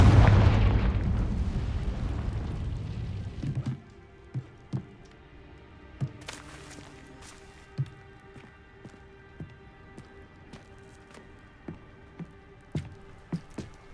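Confringo fire spells burst in Hogwarts Legacy, one heavy booming explosion that rumbles and decays over a few seconds, then a string of lighter popping impacts at roughly regular intervals.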